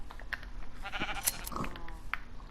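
Sheep bleat in a Minecraft game, a few short wavering calls rising over a faint, busy background with soft clicking, fairly quiet overall.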